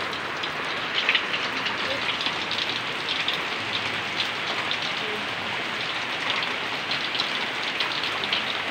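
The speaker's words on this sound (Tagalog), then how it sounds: "Lakas ng ulan. Tingnan nyo ang ulan." Heavy rain pouring down steadily, a dense hiss of drops drumming on surfaces, continuous and fairly close with no break.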